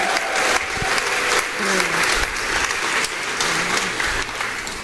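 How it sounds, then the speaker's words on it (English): Room of guests at a grant winner celebration clapping loudly and steadily, close and sustained, with a few voices and cheers mixed into the applause. "So a round of applause again for everyone."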